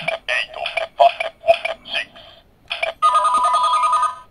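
A Kamen Rider Decade Decadriver toy belt plays a telephone ringing effect: a sequence of bright electronic ring bursts, then a sustained trilling ring, loud and close.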